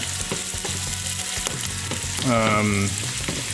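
Chopped jalapeno and green onion sizzle in leftover fat in a hot pan, a steady crackling fry with a brief scrape or clatter near the middle, no talking.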